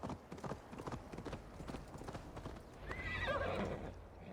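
A horse's hooves clip-clop at a gallop in Assassin's Creed Valhalla, a rapid rhythmic pounding that ends in a loud, whinnying neigh near the close.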